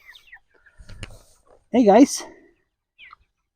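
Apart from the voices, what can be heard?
chickens clucking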